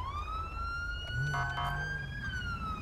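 A police car siren from the video game GTA V with the LSPDFR mod wails steadily in a rising and falling tone, moderately loud over low engine rumble, with no talking.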